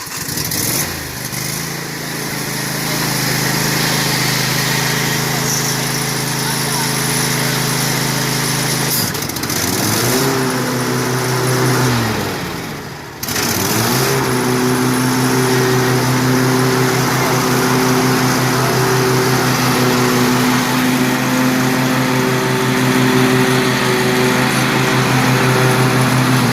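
A lawn mower engine fires up and settles into a steady, loud running drone close by, with a brief dip and restart midway before holding a constant hum.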